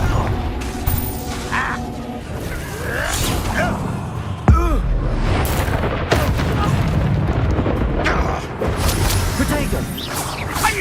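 Confringo fire-blast spells explode during hectic Hogwarts Legacy spell combat: a sharp boom near the midpoint over a dense bed of magical effects, impacts and clatter, with scattered shouts and voices mixed in.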